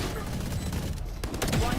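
Gunfire from the tactical shooter Valorant during a professional match crackles in short bursts, loud and close, with game sounds around it.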